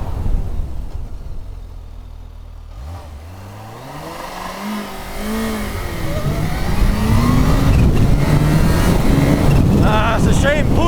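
Kawasaki Ninja H2 SX SE sport-touring motorcycle accelerating hard through the gears with traction and wheelie control on, engine pitch sweeping up in repeated rising runs that grow louder and steady under wind roar.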